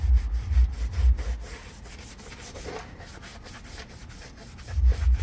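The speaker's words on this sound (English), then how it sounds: "This is what you need for floor mats like this. And it literally gets in between all these little grooves" Repeated stiff brushing strokes scrub a textured surface in a steady back-and-forth rhythm, close and fairly loud.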